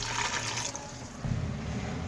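Water runs steadily into a bowl for about two seconds, a gentle pouring splash that swells slightly louder toward the end.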